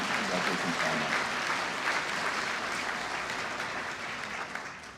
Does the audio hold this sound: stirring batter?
no